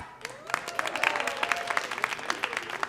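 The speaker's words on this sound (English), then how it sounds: "Keep those hands clapping and keep that energy high" Audience applause and clapping at a Boston poetry event, steady and fairly close, with sharp individual claps standing out over a continuous wash of hands and a few voices calling out.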